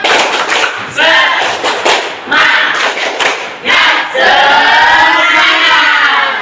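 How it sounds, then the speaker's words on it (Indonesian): A class of eighth-grade students performs a rhythmic spirit clap together with chanting, loud bursts of clapping and shouting voices in a classroom, arriving in several surges. "Bapak pandu kalian untuk melakukan tepuk semangat"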